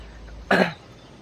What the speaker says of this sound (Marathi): तब्येत पण बरोबर एक खोकलं येऊ लागलं